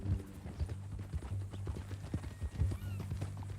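Horse hooves in Red Dead Redemption 2 clip-clop in a steady walking rhythm, fairly close but soft, continuing for a few seconds over a low humming background.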